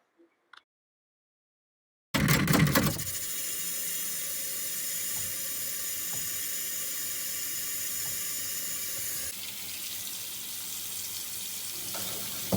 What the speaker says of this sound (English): now I'll go back to the closet to turn the water back on